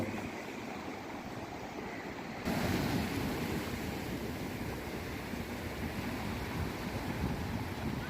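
Sea waves surge and wash steadily on a beach, heard as a continuous roar with wind buffeting the microphone, swelling louder partway through.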